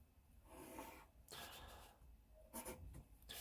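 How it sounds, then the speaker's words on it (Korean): A straight line drawn with a pencil on paper for a geometric compass-and-ruler construction, heard as soft, close scratchy strokes of graphite dragging across the sheet, quiet with faint room noise. "첫 번째 할 일은 먼저 직선을 그려줍니다"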